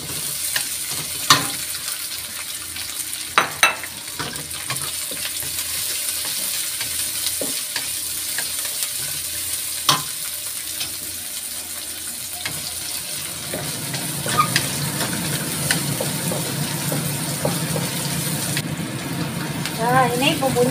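Chillies sizzle and hiss in a hot pan while being stir-fried for spicy capcay, with scattered clinks and scrapes of a utensil, and the frying grows denser and louder toward the end.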